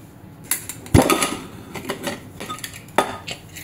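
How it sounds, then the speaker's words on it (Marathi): A pressure cooker lid is lifted off after cooking dal and rice for khichdi, giving a few sharp metallic clanks and rattles with a brief louder knock near the start, close and alone. "आता आपण झाकण काढून बघूया"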